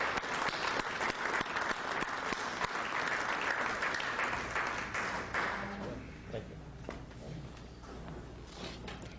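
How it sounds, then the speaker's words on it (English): Warm round of applause from a seminar audience in a Greek Orthodox church hall, dense and steady clapping for several seconds before tapering off into scattered claps and faint room noise. "could we have a warm round of applause for Bill Thornton, please?"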